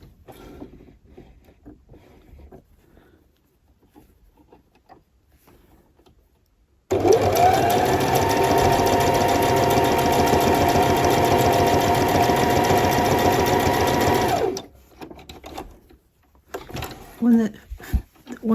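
A sewing machine closing a scrunchie with a very fine stitch, running in one loud, steady continuous burst for several seconds, preceded and followed by quiet handling noises and a voice talking.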